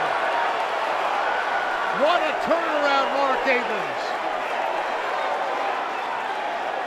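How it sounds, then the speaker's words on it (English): A boxing crowd on its feet cheering during a slugfest after a knockdown in the Ortiz versus Jackson fight, a steady roar held under an excited commentator's voice throughout. "This crowd is on their feet."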